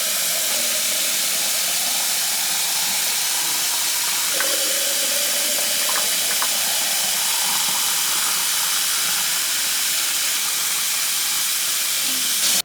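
Hot tap water runs steadily into clean canning jars in a home kitchen, a continuous hissing rush of moderate loudness that lasts throughout, with a few faint clinks along the way.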